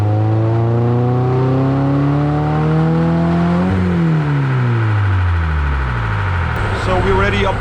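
A supercharged HKS Toyota GT86 engine revs on a dyno, its tone climbing steadily from low to high rpm over several seconds, then dropping off as the run ends, loud and continuous with a whine on top.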